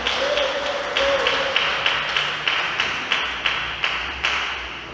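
A church congregation claps in a steady rhythmic beat, roughly two claps per second, with a brief voice near the start and a broad wash of room sound around the clapping.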